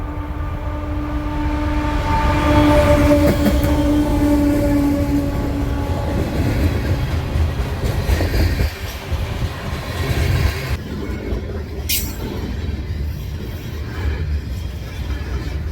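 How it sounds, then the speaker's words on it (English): Train rolling past at close range during a rainy or sleety outdoor camp, a loud rumbling clatter of rail cars with occasional wheel squeal, fading toward the end with a brief sharp screech near the close. "There's a train coming, guys."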